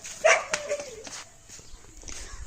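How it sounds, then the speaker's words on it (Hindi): One dog gives a sharp, close bark, followed by softer yips and some rustling on an Indian or Pakistani haveli property. Faint background activity continues as the barking trails off. "उस पर भौंकी जा रहा है"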